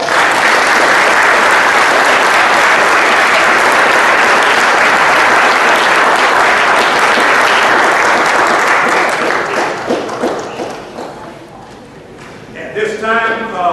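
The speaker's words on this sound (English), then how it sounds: "I think it's fitting that we give all those folks a big round of applause." Loud sustained applause from a large crowd at a 2012 Red Raider football banquet, dense clapping filling most of the time before thinning out near the end as voices and a few scattered claps remain.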